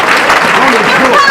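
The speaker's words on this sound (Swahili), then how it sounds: "Amashyi menshi ku Mana yacu." A church congregation applauds together, a dense burst of clapping close by with voices mixed in.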